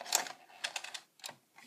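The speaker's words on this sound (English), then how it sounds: "using the typewriter, and I'm not going to type as fast as I could" Keys struck on a mechanical typewriter in a quick, uneven burst of sharp clacks, close and fairly loud, with brief pauses between groups of strokes.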